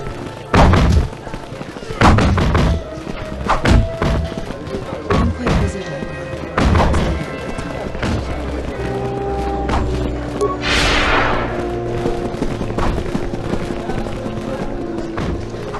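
Battle noise from Star Wars KOTOR II, with loud gunfire thumps and booms early on, then a sustained rushing blast under voices and music.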